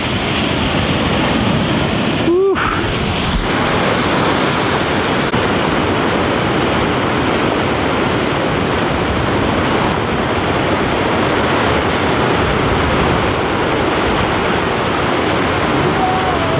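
A constant, dense roar of a waterfall's rushing water fills the whole clip, loud and steady, with a brief faint voice early on.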